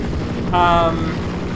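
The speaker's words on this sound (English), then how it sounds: "Look, there's helicopters." Helicopter in the video game Half-Life, a brief whirring engine tone rising over a steady game soundscape, loud and close for a moment.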